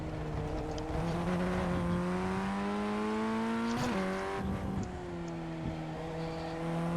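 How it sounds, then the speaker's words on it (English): Formula 1600 race car engine in a racing video game, a loud steady high-pitched drone with rising pitch sweeps and a sharp break near the middle as it upshifts, then climbing again, continuous throughout. "didn't mean to upshift then"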